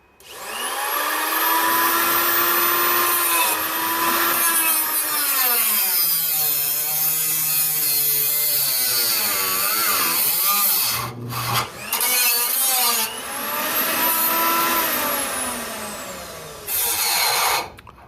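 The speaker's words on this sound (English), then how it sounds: "get the cutting wheel and cut those lines off" A cutting wheel slices through the steel lines of a 1996 Ford F-150 steering gear box, with a loud, sustained high-pitched whine that rises and falls in pitch as the wheel bites, pausing briefly before starting again.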